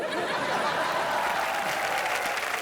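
Audience applause from a crowd at a comedy entertainment show, a dense continuous wash of clapping with a few light chuckles mixed in, loud and sustained throughout.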